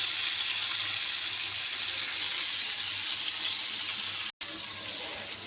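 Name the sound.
rupchanda pomfret fish frying in a pan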